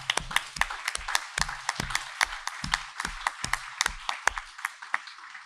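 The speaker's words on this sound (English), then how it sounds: "I think we could give everybody a round of applause now" Applause for mayoral candidates at a forum on older adults' issues, a small, sparse audience giving distinct individual claps in an uneven rhythm that thins out and stops after about five seconds.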